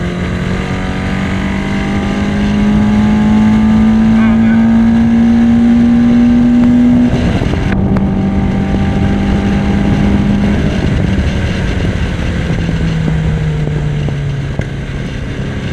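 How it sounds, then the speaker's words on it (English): Engine of a Yamaha XS1100 cafe racer motorcycle running on Speeduino fuel injection, revving steadily and holding a high droning pitch that climbs, dips and climbs again, loud and close with wind rushing over it. "It doesn't want to rev past 6. See, that's where it takes off there."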